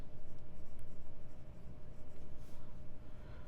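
Medium-nib Stipula Etruria fountain pen scratching across paper in steady, rapid strokes, close and quiet with a soft rhythmic scratch and no voices.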